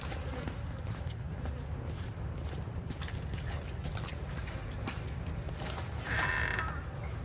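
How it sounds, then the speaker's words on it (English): A door creaks shut in the horror game Outlast, a long, groaning wooden creak with scattered clicks and knocks, fairly faint and alone. "Did somebody close this door?"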